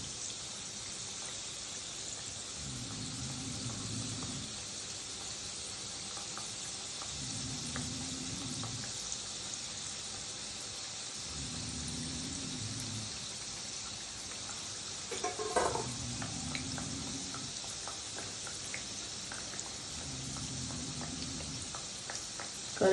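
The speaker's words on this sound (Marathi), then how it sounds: "करंज्या नेहमी मीडियम गॅसवरच तळायच्या आणि ह्या लगेच पलटी करायच्या नाही." Karanji pastries frying in oil over a medium gas flame give a steady, even sizzle that holds throughout, with a few brief clatters partway through and soft, low, rhythmic bursts recurring underneath.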